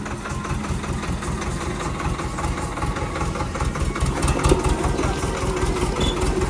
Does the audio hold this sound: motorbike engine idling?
yes